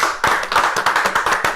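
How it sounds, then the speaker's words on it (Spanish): Audience at a religious gathering clapping together, a fast rhythmic run of about a dozen close, sharp hand claps. "Vamos a darle un aplauso a Dios."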